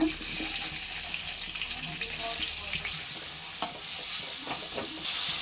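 Onions with cinnamon and cardamom frying in hot oil for chicken salna, a loud, dense hiss of sizzling close by that eases slightly midway, with faint scraping stirs.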